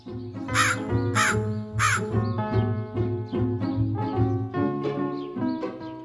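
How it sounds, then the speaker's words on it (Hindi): Three loud, harsh crow caws in quick succession, followed by a steady layered drone that continues to the end. "प्यासा कौवा।"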